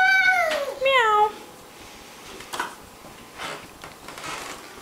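A 19-month-old toddler imitates a cat's meow with two drawn-out, sliding meows up close, followed by soft rustling and shuffling in a quiet room.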